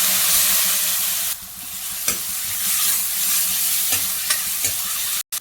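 Whole spices, mace and cumin seeds, sizzling and frying in a pan for an egg masala gravy, a steady loud crackle with a few sharp pops and a brief dip near the end, no voices.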